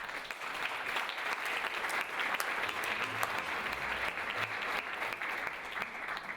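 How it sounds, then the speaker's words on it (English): Steady audience applause fills a gala tribute event honoring centenary brands, a dense continuous clapping that holds at even loudness throughout with no talk over it. "let's give another round of applause for all the centenary brands this evening"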